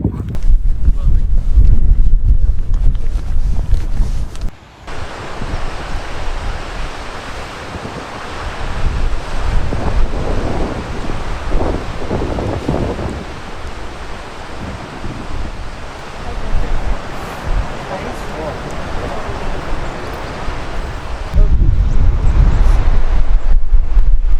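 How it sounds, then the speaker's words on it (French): Loud wind buffeting the microphone, a heavy low rumble that eases briefly then roars back, with surf-like noise underneath. "Il y a du vent, j'espère que vous allez m'entendre."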